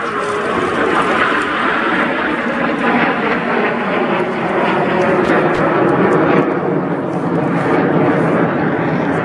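Frecce Tricolori display team jets roar overhead at an air show, RIAT 2025, a loud continuous broadband rush that stays steady for several seconds with faint crowd noise beneath.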